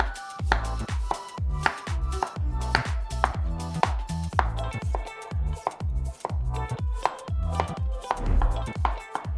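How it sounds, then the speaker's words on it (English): A knife slices peeled daikon radish into thin rounds on a cutting board, giving steady, evenly spaced chopping strokes with crisp close thuds repeating for several seconds without talk. "peel the daikon, trim off the ends, and slice it into thin rounds or shred it"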